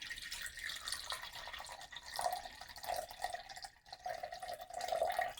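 Black tea is poured into a henna mix, a faint, soft trickle and splash of liquid running for a few seconds in a quiet room.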